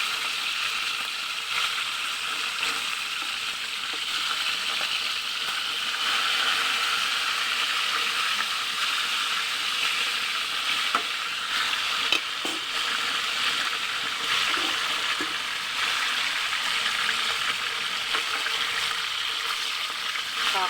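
Tilapia frying in hot oil on a rainy afternoon, a loud continuous sizzle with sharp crackles and spattering pops throughout, close and steady with no talk.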